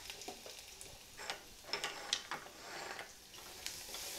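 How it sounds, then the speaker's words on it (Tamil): Ground rasam masala with coriander and curry leaves sautéing in oil for tomato rasam, a faint soft sizzle with scattered light scraping clicks from stirring, steady and quiet throughout. "இப்போ நம்ம ரசத்துக்கு அரைச்சி வச்சுருக்கூடிய மசாலாவை இதில் சேர்த்து இந்த எண்ணெயில் வதக்கிடலாம்."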